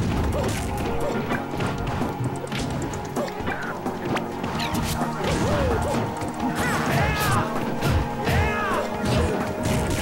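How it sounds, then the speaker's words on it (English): A Super Smash Bros match as Mario lands a down smash, with dense crashing hits, whacks and layered game effects mixed over music. Loud and continuous, and crowd or commentary voices may sit faintly underneath. "Nice down smash."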